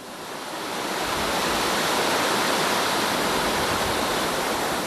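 A waterfall in a Nebraska canyon splashes and foams in a steady, full roar of rushing water that swells in over the first second and then holds loud and unbroken, with no voices.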